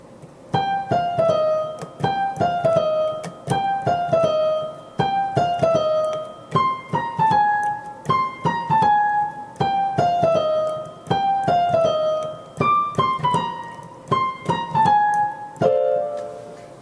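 A piano plays a bouncy, repeated Liberace-style boogie-woogie right-hand figure of short notes in a steady rhythm, close and clear, with no voices.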